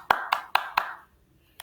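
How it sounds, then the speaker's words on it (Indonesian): A small class clapping in a lesson, four quick unison claps close together followed after a short pause by one last stray clap, crisp and near in a quiet room. "tepuk tangan untuk kita semua"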